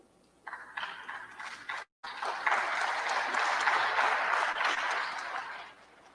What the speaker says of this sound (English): If you are tired of clapping